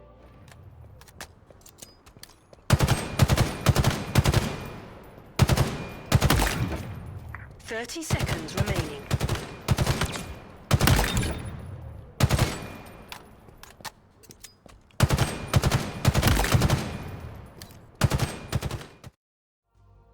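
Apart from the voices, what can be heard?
BR battle rifle firing in Halo Infinite video game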